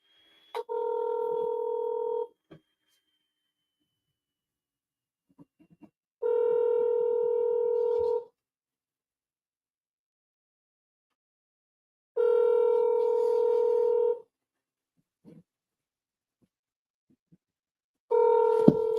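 Ringback tone from an outgoing phone call to Sabina, Ohio Village Hall: four evenly spaced two-second rings separated by long silent gaps, clear and steady with no talking.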